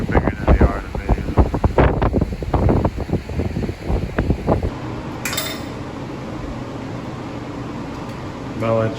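Strong wind and ocean surf from Hurricane Elsa at Siesta Key, Florida, roar together, with heavy gusts buffeting the microphone at first, then a steady crashing wash of waves.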